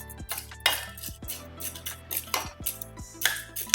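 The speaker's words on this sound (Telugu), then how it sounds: "ఇలా మాడకుండా కలిదిప్పుకుంటూ వేయించుకోవాలండి స్లోగానే వేయించుకోవాలి" Spatula scraping and clinking against a pan as lentils dry-roast, repeated sharp metallic strokes in an uneven rhythm, close and clear with no talking.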